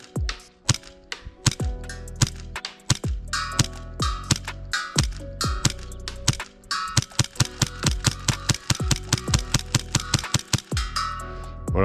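A custom Hi-Capa airsoft pistol used for speedsoft fires rapid bursts of sharp, close cracks in quick rhythmic strings with brief pauses, shooting at targets 30 metres away, no talk.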